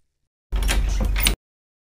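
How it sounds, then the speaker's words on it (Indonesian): A house door is pulled open after the doorbell rings: a single brief scraping, rattling burst under a second long, moderately loud and isolated with silence on either side. "Kamu pun langsung membuka pintunya"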